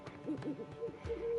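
A bird in The Witcher 3 giving a short series of soft hooting calls, a few quick notes then a longer held tone, faint and close over quiet game ambience.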